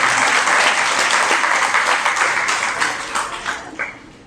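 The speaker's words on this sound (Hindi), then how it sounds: "ताली धीरे से क्यों बजा रहे हैं?" A lecture audience applauds, dense clapping that starts strong and gradually thins into scattered individual claps as it fades out.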